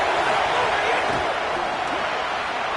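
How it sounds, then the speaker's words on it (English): Stadium crowd noise in a football video game: a loud, steady roar that fills the whole stretch without letting up. "this defense feeling energy from the crowd"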